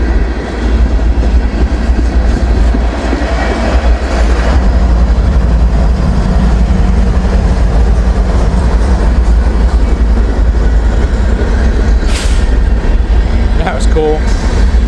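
Freight train with a distributed power unit rolling past through snow, a loud, steady rumble and rail clatter close by with a brief hiss of air near the end; people speak over it.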